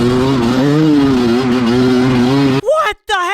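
An off-road motorcycle engine idles loud and close with a wavering, uneven drone at a hard enduro race start, then cuts out and briefly restarts with a rising rev.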